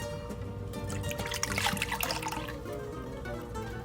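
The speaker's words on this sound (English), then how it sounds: "in a separate bowl, we're going to mix in the milk, the orange juice," Milk and orange juice poured into a separate bowl for a Finnish Runeberg cake batter, a short steady liquid trickle and splash heard close up and alone.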